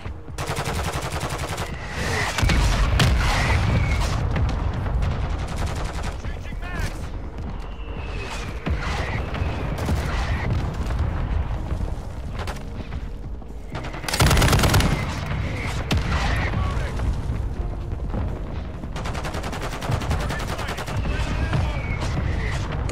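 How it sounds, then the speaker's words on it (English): Loud video game combat with mortar strike explosions and constant gunfire. Dense bursts of shots run throughout, and a heavy booming impact stands out partway through. "Mortar strike inbound now."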